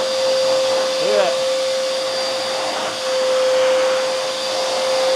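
A RIDGID 16-gallon 5.0 peak HP wet/dry shop vacuum runs continuously with a loud, steady whine and airflow roar, close by, with a brief faint whistle partway through.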